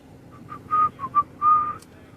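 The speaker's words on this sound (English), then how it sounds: "he's whistling." A man whistles a few short, soft notes, one held slightly longer, fairly close and with no talking.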